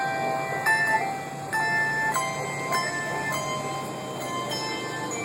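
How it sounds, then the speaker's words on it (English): Small jingle bells ring faintly at an Independence Day parade in the USA, in a loose, repeating pattern, with clear tinkling strikes over a steady background hum. "Little jingle bells?"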